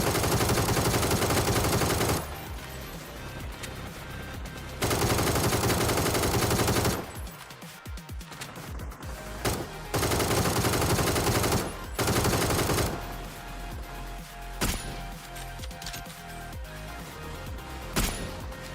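Automatic rifle fire from an ACE in the battle royale game PUBG, loud, dense bursts with heavy recoil, stopping and restarting several times across the stretch with brief gaps between volleys.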